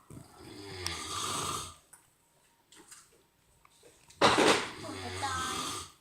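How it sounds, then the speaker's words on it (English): A sleeping man snores loudly in two long, rasping, rumbling breaths separated by a quiet pause, close to the microphone, with only faint incidental sounds in between. "He snores like a pig and a cow."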